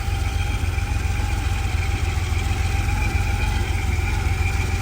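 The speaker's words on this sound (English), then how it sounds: "The motor sounds excellent, no smoking out the tailpipe." A 1983 Porsche 911 Targa engine idling steadily, a continuous mid-to-low mechanical hum with a slight whine, heard close and even throughout with no talk.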